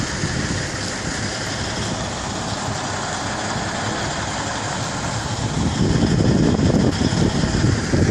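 A tractor trailer truck's diesel engine rumbles steadily as it backs up to a loading dock, a loud, continuous low drone that swells slightly near the end.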